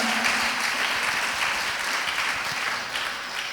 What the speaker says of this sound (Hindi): एक बार आपके लिए भी जोरदार ताली बजा के आपका स्वागत करें